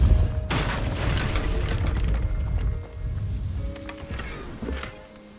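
The Depulso force spell is cast in the Hogwarts Legacy video game, a sharp booming burst followed by a rumbling, whooshing tail that fades gradually, with no talking.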